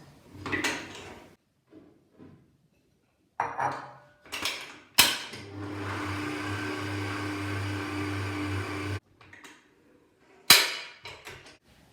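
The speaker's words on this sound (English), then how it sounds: "I am going to add the rest of the flour and then I'm going to let this knead for about 7 minutes" Mixer kneading milk bread dough for soft dinner rolls: a steady motor whir runs for about four seconds, framed by sharp clatters and knocks of bowl and utensils nearby.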